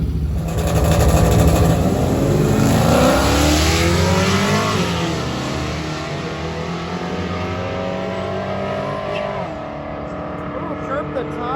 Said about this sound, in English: See what the turbo air cooled flat 4 can do.